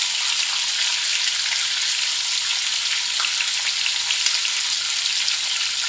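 Steady, dense sizzling of corned beef hash frying in a pan, loud and close, with a constant crackling hiss and no voices.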